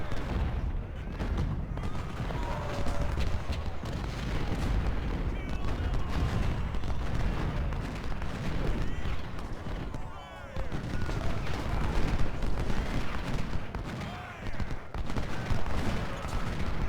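Dense, continuous volleys of massed musket and cannon fire in the Civil War battle game Ultimate General: Civil War, crackling shots and booms overlapping loudly throughout, with a voice talking over the din.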